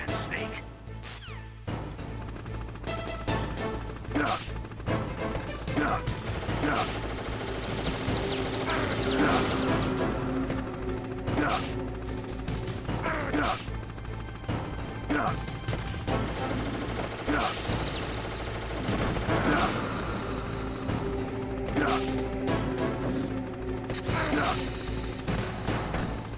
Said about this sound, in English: you should be able to dodge the gunfire from the hind while you rappel down